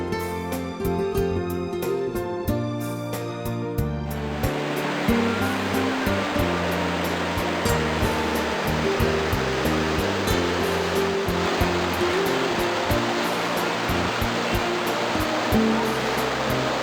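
Anagimala waterfall in the Kanneliya rain forest, a steady, loud broadband rush of falling water that fills the scene throughout, with tonal, music-like sounds over it for the first few seconds.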